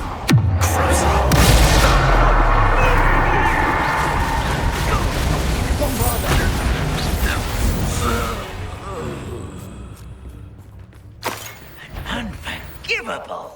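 Confringo fire-blast spells in Hogwarts Legacy combat, loud booming crackles that fill the scene, with battle rumble and sharp impacts fading toward the end.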